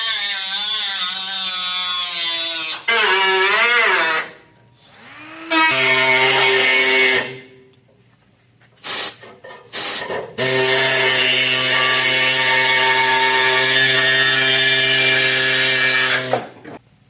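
Metal cut out for a weld patch with a power tool gives loud whining bursts that rise and fall, stop, then resume as long steady runs with brief pauses between.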